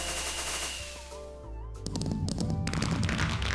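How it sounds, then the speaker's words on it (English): Fireworks launched from the ground in a video game, a whoosh followed by a rapid burst of crackling pops and bangs that build into a loud, dense barrage. "fireworks now have a sound when you launch them off"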